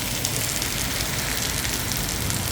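Heavy storm rain pours down in Kanchanaburi, Thailand, a dense, unbroken hiss and patter that stays loud and even throughout.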